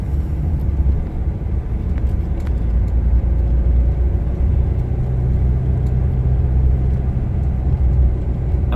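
A car drives through a small town, its engine and tire rumble steady and loud from inside the cabin, with a constant road whir and no talking.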